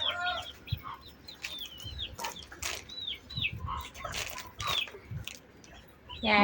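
A rooster clucks and calls repeatedly nearby, with short wing flaps and rustling between the bursts.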